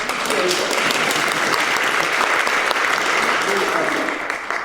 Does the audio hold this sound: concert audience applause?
yes